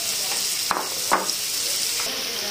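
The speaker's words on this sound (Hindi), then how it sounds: "ये हमारा सौते हो गया।" Cumin seeds and green chillies sauté in a hot pan for aloo tikki filling. A steady close sizzle of frying runs throughout, with a few soft stirring scrapes and no talking.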